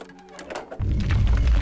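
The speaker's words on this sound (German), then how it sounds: "Ziehen wir mal den zweiten Schalter noch." A lever-style switch pulled in the Tomb Raider level editor game, Croft Manor courtyard: a light mechanical click followed by a loud, sustained low rumbling thud as machinery engages.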